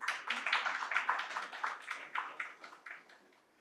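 An audience claps for a speaker being introduced at a public event, a steady round of applause that gradually thins and fades out over a few seconds.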